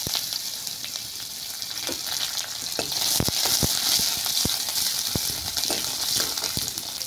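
Onions hit hot oil already holding dried red chillies, bay leaf and whole cumin, and the pan breaks into a steady broad sizzle, with clicks and pops scattered through it as the pieces are stirred. No one speaks.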